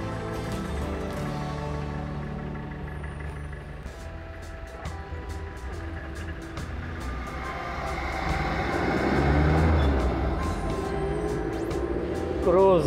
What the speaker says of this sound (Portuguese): Estamos passando sob a estação de metrô